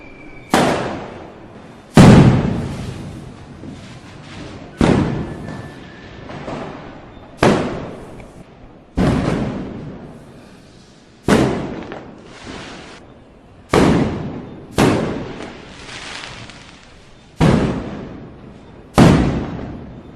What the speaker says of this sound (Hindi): लोग मोहल्लों में इकट्ठा होकर पटाखे जला रहे हैं।